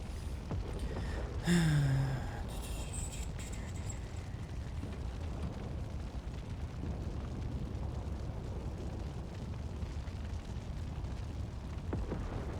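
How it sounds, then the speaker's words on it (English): Vehicle explosion from the MechWarrior 5 Realism Mod: one deep boom bursts early, then a long rumbling, crackling tail fades into steady low roar, with no talk. "also made some different vehicle explosion sounds"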